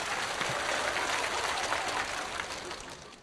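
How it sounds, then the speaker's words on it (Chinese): Studio audience at a Chinese stand-up comedy show applauding steadily for about three seconds, a dense even wash of clapping that thins slightly at the end, with no voices over it. "不用鼓掌"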